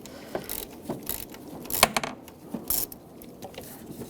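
A ratchet with a T25 socket works a screw loose from the radiator fan of a 2010-2014 Volkswagen GTI 2.0L, giving quiet, scattered clicks and metallic taps close by with no talking.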